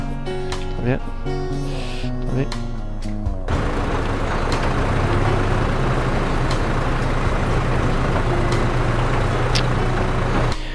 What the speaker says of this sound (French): Mais il a vraiment pas de chevaux sous le capot, ce camion, c'est pas croyable.